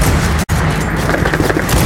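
Gunfire in a video game during a Spanish-language multiplayer match: a loud, dense burst of shots fills the clip, broken by one brief near-silent gap.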